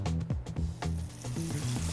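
Close, busy sizzling of chicken deep-frying in hot oil, popping and crackling steadily throughout with some low bubbling tones.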